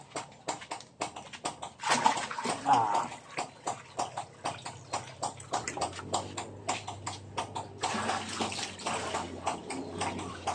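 Water from a ram pump is poured out of a collecting container, splashing and trickling steadily for about ten seconds with small knocks and ticks mixed in, fairly close and moderately loud.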